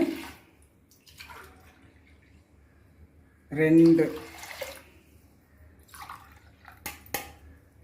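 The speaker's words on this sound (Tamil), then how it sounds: "இதை அப்படியே இந்த தண்ணியை இதில் சேர்த்துருவோம்" Water splashes briefly into a cooking pot for about a second, loud and close, with quiet talk and small clinks before and after.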